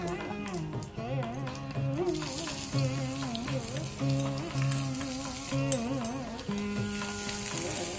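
Onions and cumin sizzle and crackle in hot oil at a steady, moderate level, with melodic background sound running underneath.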